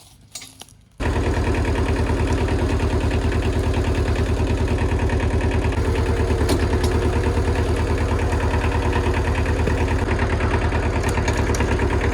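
After a brief quiet moment, a Kubota L175 tractor's engine runs loud and close in low first gear, a steady rapid diesel chugging that continues unbroken to the end.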